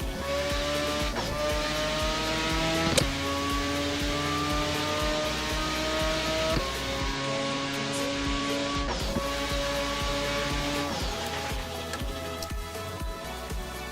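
A car engine in the Assetto Corsa racing game revs and shifts through gears while drifting, with tire squeal mixed in. The game audio is loud and steady, and there is no talk.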